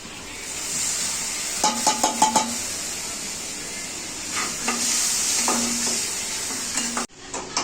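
Spice paste for an egg devil hits a hot wok (kadai) with a sustained hissing sizzle, while a utensil stirs and scrapes in a few quick clusters of knocks, close and fairly loud.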